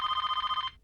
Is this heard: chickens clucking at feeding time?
no